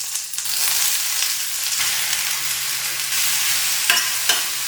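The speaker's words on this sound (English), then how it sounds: "In a pan with oil, mustard seeds, curry leaves, chopped hirekai that I saute, which gets cooked super fast." Chopped ridge gourd sautéing in oil with mustard seeds and curry leaves, a continuous dense sizzle with light stirring scrapes and a couple of sharper taps near the end, close and fairly loud, no talking.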